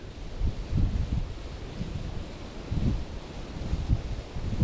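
Wind buffets the microphone outdoors at a park during metal detecting, making a low, uneven rumble with gusty swells and no voices.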